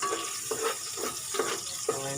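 Chopped onion hitting a hot pan and frying with a steady sizzle, broken by several short stirring scrapes at a roughly even pace, close and moderately loud, no talking.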